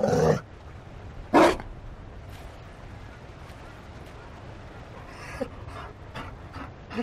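A Mabari war dog in Dragon Age Inquisition gives two sharp, loud barks, then pants softly. Quieter scattered noises and a brief spoken word follow in the background.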